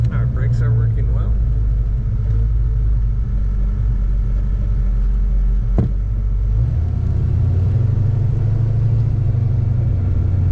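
A 1940 Ford Standard two-door sedan engine running while driving, a loud steady low rumble throughout with a brief sharp knock midway and someone talking over it.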